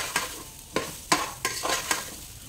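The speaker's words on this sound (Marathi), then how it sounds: "हा आपण तांदूळ भाजतो आहोत, त्याच्यामध्ये मीठ सगळं मी टाकून घेतलेलं आहे, आणि आपण आता भाजतोय जरा।" Wada Kolam rice with salt dry-roasting in a pan, a soft continuous sizzle broken by several sharp scraping stir strokes at an even rhythm.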